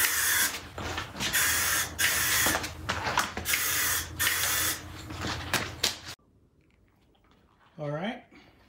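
Bursts of aerosol spray hiss loudly and steadily as PlastiDip is sprayed onto a three-piece car wheel for a first base coat, with brief pauses between passes, then it falls quiet before a short voiced sound at the end.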